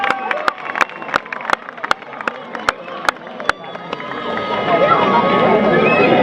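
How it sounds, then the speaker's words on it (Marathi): Clapping and crowd noise at a kabaddi match between Waghjai and Midline Academy, with sharp individual claps early giving way to a denser, louder swell of cheering and applause, under a continuous announcer's voice. "टाळ्या टाळ्या जोरदार टाळ्या सुग्रीवसाठी"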